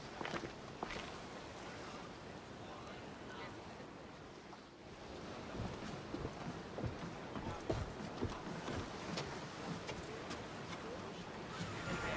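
Ship setting sail in the video game Assassin's Creed Odyssey, with rushing wind and sea surf washing steadily against the hull, a continuous broad ocean roar throughout.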